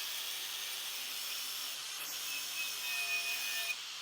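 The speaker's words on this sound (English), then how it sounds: "now I'm wire brushing them anyway" Wire wheel brushing a light coating of rust off tired old Land Rover leaf springs, a steady abrasive hiss with a constant motor whine, close and continuous for about four seconds.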